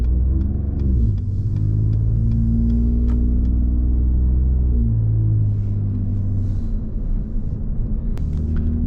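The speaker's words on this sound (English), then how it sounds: "It's been a couple days since I drove it, so we gotta let it warm up a little bit before we start to step on it." A 2018 Ford Raptor idles while warming up, its engine giving a steady, deep rumble with a couple of slight pitch shifts, close and continuous throughout.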